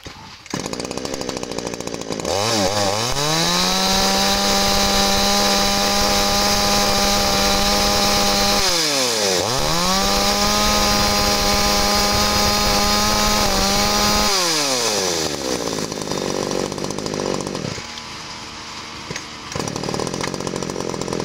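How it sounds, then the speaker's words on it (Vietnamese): A C1 chainsaw, a used saw being checked, revs loudly and steadily, its engine note rising, holding, dropping and rising again before cutting back to idle near the end, with no talk. "Rồi em vô con đầu tiên cho mình là con máy cưa C1 nha."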